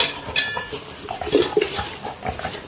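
A spoon stirs and scrapes through mango pickle in a pot as jaggery is mixed in, giving a few close, irregular metallic clinks and scrapes.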